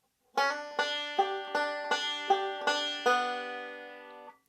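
Plucked banjo-like strings play a quick rolling pattern of bright notes, each cluster struck crisply with a ringing sustain, a brief hammered slur blending in, ending on a fading chord.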